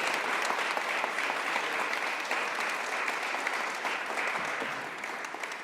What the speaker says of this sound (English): please join me in giving her a big round of applause